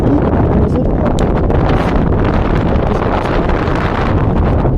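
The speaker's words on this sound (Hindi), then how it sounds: "इतनी तेज हवा चल रही है।" Strong, gusty wind roars steadily on a high mountain pass at 16,580 feet, buffeting the microphone with loud, dense rumbling throughout and no voices.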